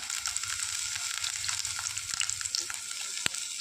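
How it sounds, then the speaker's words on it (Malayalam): Ginger and garlic sizzle and fry steadily in hot oil, a dense continuous crackle with scattered sharp pops and one louder pop near the end, no voices. "നന്നായിട്ട് ചൂടായി വരുമ്പോഴേക്ക് നമുക്ക് ഇഞ്ചി വെളുത്തുള്ളി ഇതിലേക്ക് ചേർത്ത് കൊടുക്കാം"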